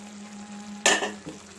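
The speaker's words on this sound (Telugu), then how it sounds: "మొత్తం కలిసేటట్టు ఒకసారి కర్రీ అంతా తిప్పుకోండి." A spoon stirs a pot of mixed vegetable pulusu with tomato and raw mango pieces, a soft simmering bubble broken by a sharp scraping swish and a small clink.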